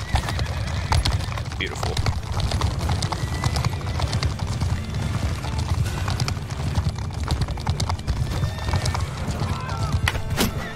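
Horses gallop in a mounted battle in the video game Mount & Blade II: Bannerlord, a dense steady clatter of hooves with neighs, sword and shield clashes throughout, and a voice talking over the fight.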